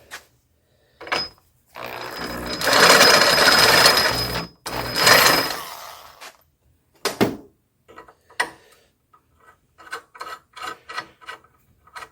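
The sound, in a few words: drill boring a hole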